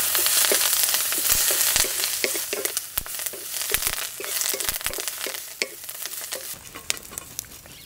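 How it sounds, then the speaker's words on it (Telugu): Green chillies, curry leaves and cumin fry in oil in a pan, giving a steady close sizzle throughout with scattered sharp crackles and pops, no voices. "పచ్చిమిరపకాయలు ఈ విధంగా వేగిన తర్వాత కరివేపాకు జీలకర్ర కూడా వేసి వేయించుకుని"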